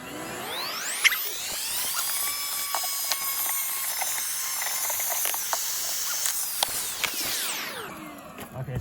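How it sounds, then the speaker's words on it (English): A small handheld vacuum cleaner spins up with a rising whine, runs at a steady high-pitched motor whine with occasional clicks and knocks, then winds down, close and fairly loud, no talk. "I went and stole the old lady's little vacuum."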